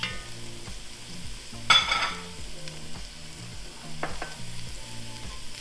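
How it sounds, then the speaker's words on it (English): Four medium cloves of minced garlic sizzle in a hot pot for white chicken lasagna soup, a bright crackling burst as they hit the fat, then steady frying with scraping stirs and clinks of the utensil. "let's add our garlic. This was 4 medium-sized garlic cloves that I minced."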